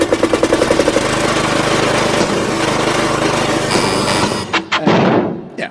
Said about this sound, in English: It's not a lawnmower. It is, in fact, Colin arriving in his car this afternoon.